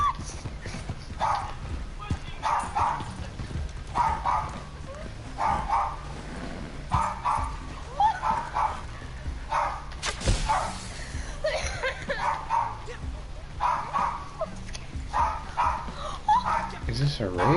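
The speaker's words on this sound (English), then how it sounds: "it would be easy enough to simply say that this dog is freaking out over nothing" A dog in the Red Dead Redemption 2 game barks in repeated sharp bursts amid horse hoof clip-clops, with someone talking over the noise.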